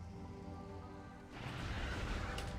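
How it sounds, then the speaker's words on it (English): Rain effects in the video game Metroid Prime start with a tonal droning hum, then switch to a dense, loud hiss of falling rain and pattering drops that fills the rest of the stretch. "Raindrops."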